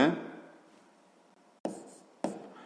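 A pen writes on paper during a sixth-grade geometry exercise, making a soft scratch followed by two short, close strokes, with a voice talking at the start.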